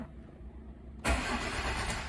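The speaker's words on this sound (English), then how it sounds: "when I try to start the car" Car engine cranking without catching because of an immobilizer fault, a low idle-like hum suddenly joined by a loud broadband rush of cranking noise for about a second, close and unaccompanied by speech.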